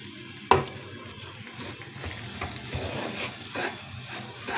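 Desi ghee hits a pan while halwa cooks, a sudden sizzle followed by continuous frying and scraping as it spreads, close and fairly loud with no talking.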